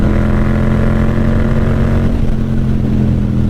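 A Yamaha MT-07 rides on Michelin Road 5 tyres with a loud, steady engine drone and heavy wind rush heard from the rider's position, with the pitch easing slightly midway.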